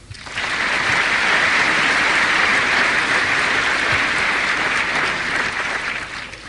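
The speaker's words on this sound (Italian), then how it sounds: "un applauso" A large congregation applauds priests at an open-air Eucharist celebration during Pope John Paul II's visit to Porto San Giorgio, a steady, full wash of clapping that swells in quickly, holds evenly and fades at the close.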